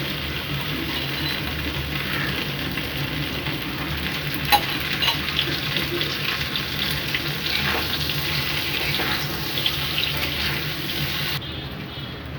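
Taro root pieces with curry leaves fry in a pan of oil, giving a loud, steady crackling sizzle that continues without a break, with faint scrapes of stirring and no talk.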